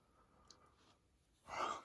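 A tired late-night yawn, quiet breath at first, then swelling into one breathy exhale near the end, close and faint.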